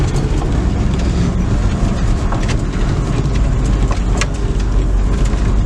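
A 1970 Ford F100 pickup truck on a test drive, its engine and road noise forming a loud, steady rumble with rattles throughout, heard from inside the cab and with no one speaking.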